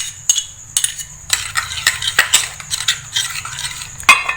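A spoon clinks and scrapes as spices are mixed into raw beef mince for Bihari kebabs, making a close, irregular run of light metallic taps and scrapes with no voices.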